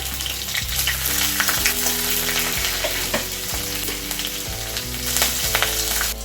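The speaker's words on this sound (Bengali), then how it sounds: "এখন এই ফোড়নটাকে আমি ভালো করে ভেজে নেব" Green chillies, chopped ginger and whole cumin frying in hot oil as a tempering, a close, steady sizzle with stirring scrapes throughout and no talk.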